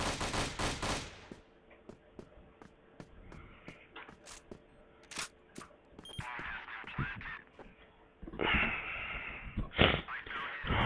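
Rapid automatic gunfire from the online shooter Crossfire in Ghost mode crackles in loud bursts, separated by shorter single shots and pauses, with a faint voice beneath.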